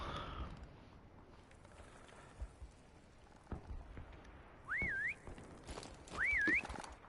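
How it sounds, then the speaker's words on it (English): A referee-style whistle sounds in the Prop Hunt video game, two rising-and-falling warbling tones a second or so apart over a low game background, with no one speaking over them. "Okay, here comes the whistle."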